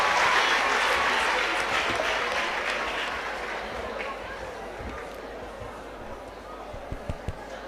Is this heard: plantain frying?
no